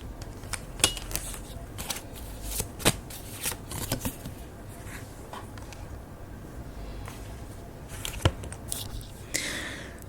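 Tarot cards shuffled by hand to draw an advice card, a steady run of close, crisp riffling and slapping with sharp card snaps scattered through about ten seconds, no voices.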